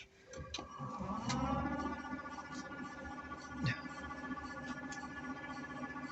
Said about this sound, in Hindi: अब ये जो आवाज़ आ रही है ये मोटर के रोटेट होने की आ रही है।